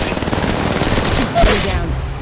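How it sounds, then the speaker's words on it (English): Rapid automatic gunfire in the mobile shooter Apex Legends Mobile, loud and continuous bursts with a game voice line heard faintly in the mix. "Reloading. Opening fire."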